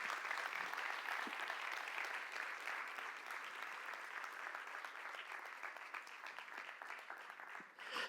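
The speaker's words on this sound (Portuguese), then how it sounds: "por isso uma grande salva de palmas para o Tiago Pereira." A conference audience applauds in a full, sustained wash of clapping that stays fairly even for the whole stretch, dipping only briefly near the end.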